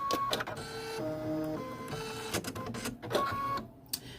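A single-needle embroidery machine automatically threads its needle at the press of a button, giving a run of short mechanical whirs, clicks and tonal motor beeps over about four seconds, close and moderately loud with no voices.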